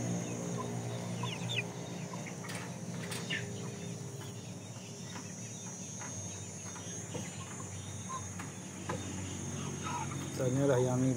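Aseel and Indio Gigante chickens, a rooster and a hen, cluck and call close by over a constant shrill drone of insects, with some faint background voices.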